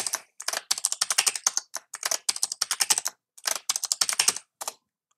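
Rapid bursts of keystrokes on a computer keyboard as a new password is entered at a Windows Server Core 2025 console, clicking in quick uneven runs with short pauses between groups, close and clear with no talk.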